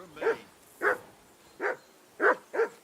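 A dog in Kingdom Come Deliverance 2 barks five times in uneven bursts, each one moderately loud and a short distance away, with no other sound in between.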